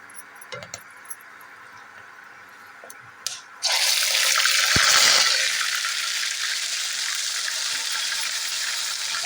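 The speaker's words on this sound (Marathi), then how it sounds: "खडे मसाले आपले थोडे फ्राय झाले की आपण लगेच त्याच्यामध्ये कांदा टाकून देऊया" Chopped onion dropped into hot oil with whole spices for mutton liver masala bursts into a loud, steady sizzle after a few quiet kitchen knocks, frying continuously close by with no talk.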